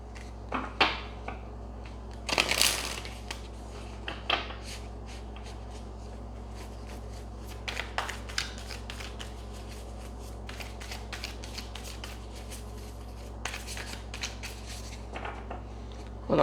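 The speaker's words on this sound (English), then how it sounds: "let me just get one more shuffle" Tarot cards being shuffled by hand, a close series of crisp riffles and soft slaps in short bursts separated by quiet pauses, with no talking.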